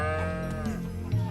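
Cattle at the cow sheds in Shenmue 3 give a long, low, sustained moo, close and clear, with a second lowing note rising near the end.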